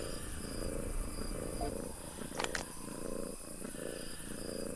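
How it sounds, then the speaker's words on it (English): A cat purring in the horror adventure game Weird Park, a faint low rhythmic rumble under quiet ambient game sound with a steady high insect-like hum and a brief sharp noise midway. "Oh, you can hear it purring too."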